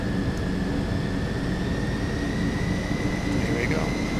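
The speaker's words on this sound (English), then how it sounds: "Takeoff power set." Boeing 727 jet engines run at takeoff power in a flight simulator game, a steady loud roar with a sustained whine, continuous and even for the whole stretch without talk.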